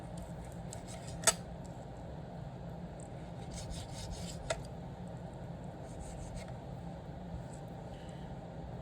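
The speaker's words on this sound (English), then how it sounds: "what I'm going to be doing is cutting the fat off" A knife trims fat from a cut of meat in a steady, close scraping rasp, with a couple of sharp knocks and no talking.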